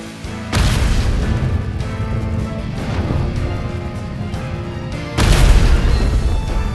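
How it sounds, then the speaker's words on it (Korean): Heavy, booming barrage of gunfire and explosive impacts in the pixel-art fantasy action RPG Goddess Order, with loud continuous blasts and a fresh surge of impacts near the end. "설마 혼자서 이 많은 탄환을 다 쏘고 있는 거야?"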